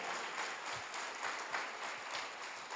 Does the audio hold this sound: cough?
no